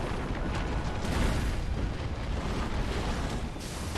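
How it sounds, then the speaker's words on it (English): Firecrackers tossed in Sekiro set off a dense, continuous rumble of loud bursts and booms, steady and close throughout with no clear gaps between blasts. "Throw some firecrackers."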